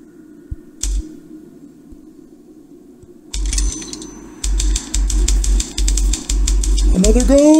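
Automatic typewriter in The Room Two game clacking away by itself, starting with a few isolated key strikes, then rapid bursts of typing separated by short pauses, ending with a rising mechanical whir.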